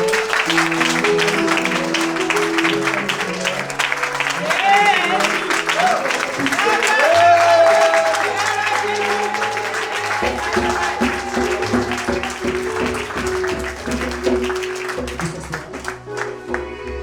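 Applause acclaims the Lord at a school harvest festival: a loud, sustained round of clapping from a crowd, with voices and music mixed in throughout.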